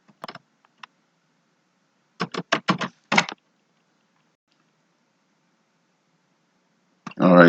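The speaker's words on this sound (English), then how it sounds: "Okay, let me type it manually." Typing on a computer keyboard, short bursts of quick clicking keystrokes separated by silent gaps, close and clear, with a voice briefly speaking at the end.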